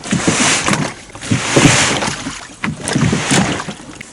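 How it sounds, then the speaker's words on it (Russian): Rough scraping and sloshing as a boat is hauled out of shallow water onto sand, uneven bursts of dragging and splashing, close by, with no talking. "Сейчас придется лодку вытаскивать."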